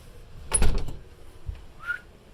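A glass door on a camper is pulled shut with a close, sharp knock and rattle, followed by a faint squeak a moment later.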